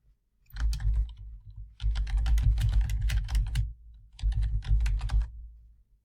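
Typing on a computer keyboard comes in three close bursts of rapid key clicks with short pauses between them, clear and alone without speech.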